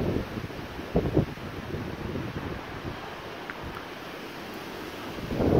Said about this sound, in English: all of the trees are blowing in the wind. Big, big wind.